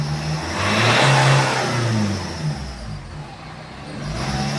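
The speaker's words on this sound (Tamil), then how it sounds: "ரேஸ் ஆகுது பாருங்கள், நல்லாவே ரேஸ் ஆகுது." A Ford Fiesta with an accelerator fault revs up and down, its engine droning loud and near in rising and falling swells with no voices.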